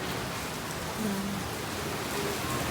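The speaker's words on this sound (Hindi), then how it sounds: "क्योंकि सुबह से तो रुकी ही नहीं है बारिश" Heavy rain that has fallen since morning, a dense, even hiss that stays steady and close throughout, with a faint tone briefly audible underneath.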